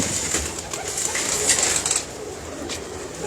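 Pigeons coo in a continuous, fairly close soft chorus among a loft of fancy breeding birds in Lala Musa, with faint rustling and no talk.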